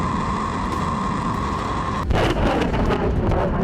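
A ballistic missile launches in news footage: a steady, dense roar fills the first two seconds, then a louder, harsher rumbling blast breaks in and keeps roaring to the end, with no voices.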